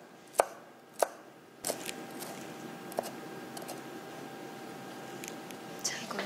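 Knife mincing leftover vegetable stems for a coconut curry on a cutting board, a few sharp separate chops followed by quieter irregular tapping, with someone speaking over the kitchen sounds.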